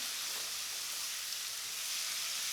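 Pieces of country chicken curry fry in a pan, a steady bright sizzle and hiss running evenly throughout, close and moderately loud with no talking.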